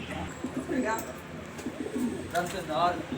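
A young female Tera pigeon coos in low, rolling bursts at an Alexandria pigeon market, close by, while someone talks over it.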